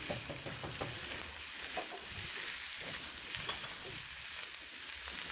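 Chopped potato and cauliflower frying in oil in a pan, a steady hissing sizzle with scattered crackles and light stirring scrapes, close and continuous with no voices.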